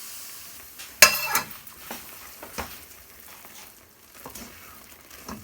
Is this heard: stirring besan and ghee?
yes